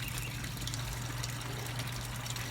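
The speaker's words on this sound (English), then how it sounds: "you'll start seeing the water come out in a second." Water pours steadily out of a homemade koi pond filter built from a 5-gallon bucket with a valve, giving a continuous, close rushing and splashing with no talk.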